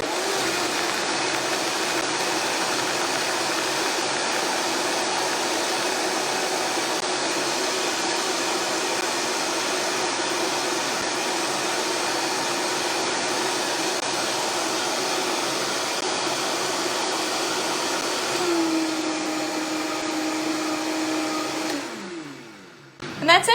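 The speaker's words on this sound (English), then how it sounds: "Putting it on the Vitamix right here, and we're gonna turn it on." A Vitamix blender whirs steadily as it blends a pecan pie smoothie, a loud continuous roar with faint periodic ticks that holds for most of the time before the motor winds down and stops near the end.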